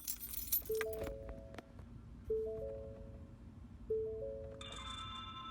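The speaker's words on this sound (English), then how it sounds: "Make sure it turns on when we've turned the car keys." Car keys jangle and turn in the ignition of a 2013-2020 Ford Escape, followed by a soft repeating two-tone dashboard chime at steady intervals and a brief higher tone near the end, in a quiet cabin.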